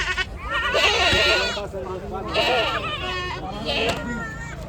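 Several dairy goats bleat loudly nearby at a large livestock market, in repeated, wavering cries, with a person's voice mixed in.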